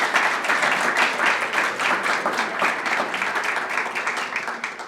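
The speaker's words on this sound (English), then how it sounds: "Let's give another big round of applause to your talented students." A graduation audience at a county youth leadership ceremony applauds the students: sustained, even clapping from many hands throughout, fairly loud and close.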